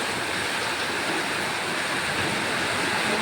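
Steady, dense roar of heavy rain mixed with gusting wind, loud and continuous throughout with no voices.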